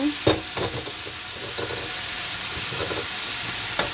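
Potatoes going into a pan of frying bitter gourd, with a steady sizzle and hiss throughout and a few stirring scrapes and clacks of a spoon in the pan.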